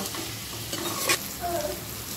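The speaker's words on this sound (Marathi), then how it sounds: "हाय टू मीडियम फ्लेमवरती आपल्याला भाजून घ्यायचं आहे सर्व सॉफ्ट होईपर्यंत" Ginger-garlic masala roasting in a pan over a high-to-medium flame for dhaba-style kaju paneer masala, a steady close sizzle with a brief scrape of stirring around the middle, no talk.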